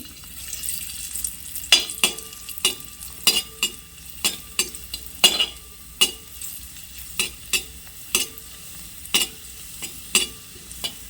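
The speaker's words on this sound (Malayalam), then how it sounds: "ഇനി കുറച്ച് ഉണക്കമുന്തിരി ഇട്ട് കൊടുക്കാം. കറുത്ത മുന്തിരിയാണ് ഞാനിവിടെ എടുത്തിട്ടുള്ളത്." Black raisins are added to a pan and fried while being stirred for aval paal payasam, a sharp sizzle broken up by a steady run of scraping, clinking stirs, close and with no talk.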